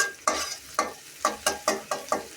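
Onions and green chillies fry in a pan while a utensil stirs them in about eight steady, evenly spaced scraping strokes over a soft, continuous sizzle.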